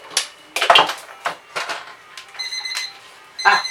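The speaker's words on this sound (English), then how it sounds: "Timer went off." While banana bread is baking, a kitchen timer beeps a steady run of high electronic pips near the end, amid clattering kitchen-drawer and utensil knocks.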